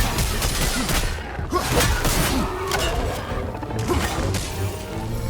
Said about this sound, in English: That explosion does so much damage.